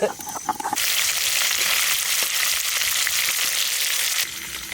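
Snakehead fish sizzles loudly in hot oil in a village kitchen, a steady hissing fry that starts abruptly after a few light clinks and cuts off near the end.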